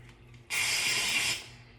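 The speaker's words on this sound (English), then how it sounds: "I'm going in with the Degree Advanced 72-hour deep cedar and lavender dry spray deodorant" A single burst of dry spray deodorant hisses close up for under a second, then cuts off into quiet.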